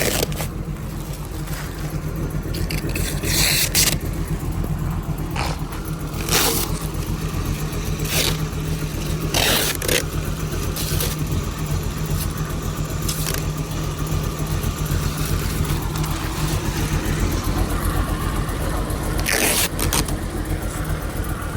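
A Corvette C7 Z06 V8 running on a freshly installed GPI LTPD1 camshaft during break-in, a steady, lumpy idle rumble with occasional brief sharper bursts, heard at moderate distance without talk.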